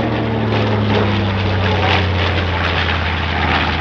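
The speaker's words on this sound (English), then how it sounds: "De B-25 is een middelzware bommenwerper die aan het eind van de jaren 30 werd ontwikkeld in opdracht van de US Army." A B-25 Mitchell medium bomber from the Flying Bulls flies at the Sanicole Airshow 2022 with a loud, steady propeller-engine drone that holds at constant strength for the whole stretch.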